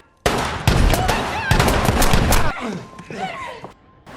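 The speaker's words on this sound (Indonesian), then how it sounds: "Akibat baku tembak tersebut" A rapid volley of gunshots in a film shootout bursts out loudly, several sharp cracks in quick succession, then tails off into quieter scattered sounds with voices and movement.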